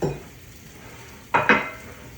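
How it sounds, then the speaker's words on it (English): Two quick bursts of hot sizzling as red snapper fish hits a hot pan, over a low kitchen background hum. "Listen to the sizzle."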